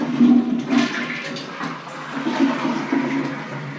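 A toilet flushes in a renovated bathroom, a steady watery rush with a low gurgling swirl that surges and eases over a few seconds, fairly close and without talk.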